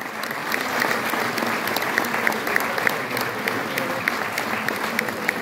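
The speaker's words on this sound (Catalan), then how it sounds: "un bon aplaudiment" An audience at a Festa major concert gives sustained applause, a dense, even crackle of many hands clapping at close range for several seconds without a break.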